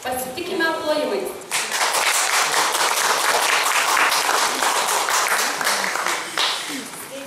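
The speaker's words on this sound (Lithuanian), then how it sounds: "Pasitikime plojimais." A studio audience applauds a contestant called onto the stage in a Lithuanian translator competition, a dense burst of clapping that starts after a brief spoken introduction and runs steadily for several seconds.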